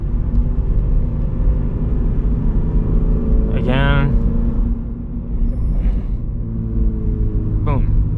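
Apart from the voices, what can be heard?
Subaru BRZ manual car engine revving while shifting gears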